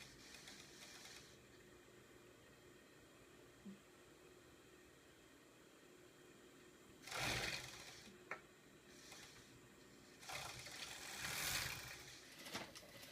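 An industrial sewing machine top stitches the seam allowance on a shawl vest, running in short, fairly quiet bursts of rapid stitching over a low steady background hum.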